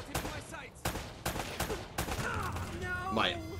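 Desert Eagle pistol fire in Uncharted 1: several sharp, loud shots in quick irregular succession, with someone talking over the later part.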